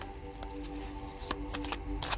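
Tarot cards being handled and laid out in a quiet room, a few soft papery slides and flicks over a steady low hum, with no talk.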